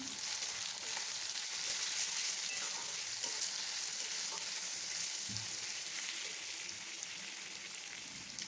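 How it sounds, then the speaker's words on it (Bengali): Chopped tomato frying in a pan with onion and garlic paste, a steady broad sizzle that runs throughout, fairly close and even, easing slightly toward the end with no talking. "এবারে কেটে রাখা টমেটোটা দিয়ে দিলাম"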